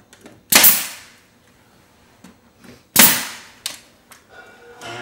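A nail gun fires into wall moulding, producing two loud, sharp pneumatic bangs a couple of seconds apart, with soft handling taps and clicks between them.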